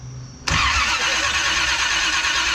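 A 1976 Chevy K-20 truck engine with no mufflers fires up abruptly and roars at a loud, raw, sustained level right next to the listener.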